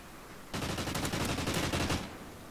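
A sentry gun in the Call of Duty Ghosts video game fires a rapid, sustained automatic burst lasting about a second and a half, moderately loud and mid-distance, with no talk.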